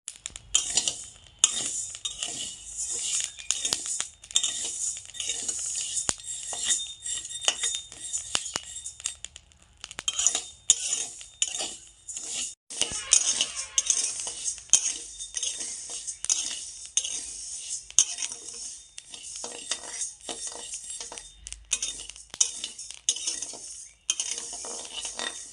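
A utensil scrapes and clinks against a pan as rice is stirred and dry-roasted for Bengali rice laddoos, a steady run of close, dense metallic scratches with no talk.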